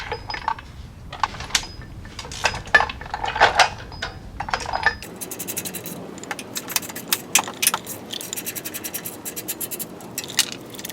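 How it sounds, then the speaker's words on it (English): Two 12mm bolts holding the brake lines on a Gen4 Toyota 4Runner are being removed during a leveling and lift install, with close metallic jingling, scraping and tool clicks, then a denser burst of rattling ratchet-like clatter in the second half. "Now we're going to remove those 2 12mm bolts which hold the brake lines in."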